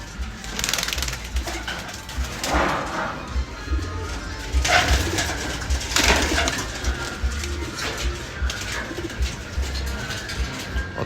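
Young pet pigeons cooing nearby, with repeated soft, throaty coos rising and falling over about eleven seconds against faint background noise.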